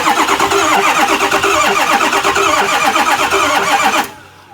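A 1986 Ford bullnose truck with a swapped 6.0 Powerstroke diesel engine runs loud and rough with a rapid chugging rhythm for about four seconds, then abruptly cuts off.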